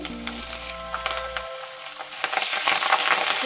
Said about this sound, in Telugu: ఇవన్నీ కూడా కలర్ వచ్చేదాకా వేయించుకుంటాం